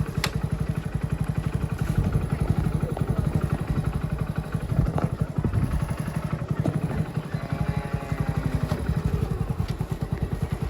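A motorcycle engine idles nearby with a steady, throbbing rumble that runs unbroken from start to finish.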